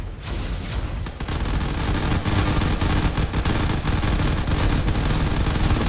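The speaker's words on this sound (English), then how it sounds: "there are some missile defenses being fired around here and lots of railgun" Rapid, dense game weapon fire from missile defenses and railgun turrets in the Drone Wars space battle rattles continuously, with sharp repeated cracks over a loud rumbling bed.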